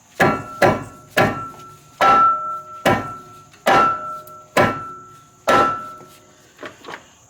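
A hammer strikes metal on a Nissan Maxima wheel hub, about nine sharp clanging blows at an uneven pace, close and loud with brief ringing after each hit.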